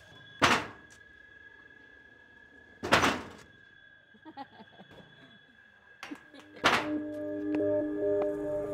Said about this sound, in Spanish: La idea es que usted patea la puerta y yo grabo el sonido.